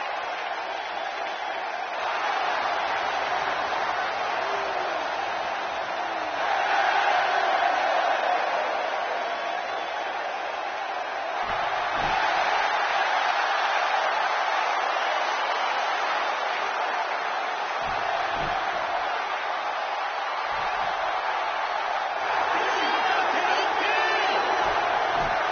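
A roaring arena crowd in the WWE 2K16 wrestling video game keeps up a steady, loud wash of cheering and noise with a few surges, and there is no clear speech over it.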